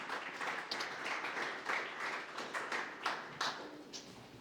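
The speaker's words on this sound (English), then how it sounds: "Please clap for him." An audience at a grand opening event claps for a speaker being called to the floor, producing a steady moderate patter of many hands that holds for several seconds, heard from a slight distance.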